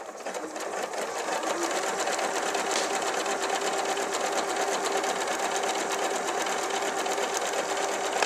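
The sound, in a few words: Elna Lotus sewing machine sewing applique stitch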